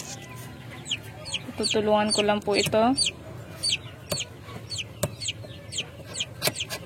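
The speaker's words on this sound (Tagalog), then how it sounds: "makarinig ng iyak ng sisiw" Newly hatched chicks in an incubator peep in a rapid run of high, sharp chirps, close and lively, while a person speaks briefly partway through.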